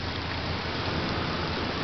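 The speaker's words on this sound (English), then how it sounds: "It's raining harder." Heavy rain pours down during a Texas lightning storm in Waco, a dense, steady hiss of drops beating on surfaces that stays loud and unbroken throughout, with no thunder or voices.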